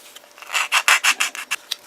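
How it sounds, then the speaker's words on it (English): A sanding file rasps back and forth along the cut edges of a model car's trunk lid in about eight close, quick, even strokes of dry scraping with no talking. "take your sanding file, make these nice flat edges"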